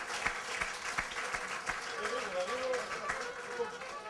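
An audience applauding Olympic gold medallist Voula Patoulidou as she is called to the stage, a sustained wash of clapping from a crowd with a voice speaking over it.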